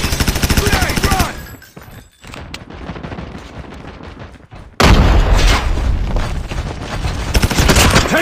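Grenade blast and gunfire in the mobile shooter Call of Duty Mobile, loud dense bursts of rapid shots, a brief lull with softer fire, then a sudden heavy explosion and continued shooting at close range.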